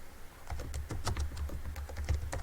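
Computer keyboard typing in steady bursts of close, crisp key clicks over a low room hum, with no talking.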